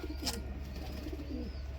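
Wild pigeons coo softly in low, rolling calls against a steady background hum, fairly close, with a brief sharp click early on.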